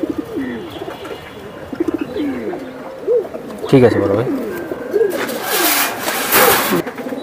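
Female Surma khaki pigeons coo in repeated low bubbling phrases close by, while people talk over them and a short engine-like burst cuts in near the end.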